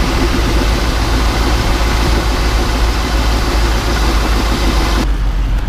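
An old dump truck's engine idles steadily and close by, a low continuous rumble that runs evenly throughout with no voices over it.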